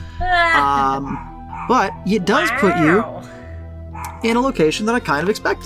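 Boots the dog barks and yips repeatedly nearby, sharp high barks coming in clusters with whimpering tones, while a person keeps talking underneath.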